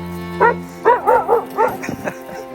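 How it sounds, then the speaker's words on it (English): Two dogs at an English country manor barking in quick short bursts, loud and close, several overlapping woofs and yips with a whine between them. "so these are my mum's two dogs"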